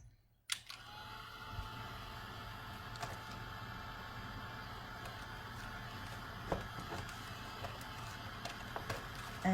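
A dryer blows steadily over wet paint on paper, a continuous whirring rush that starts abruptly and runs unbroken at moderate level, with a few faint clicks and knocks.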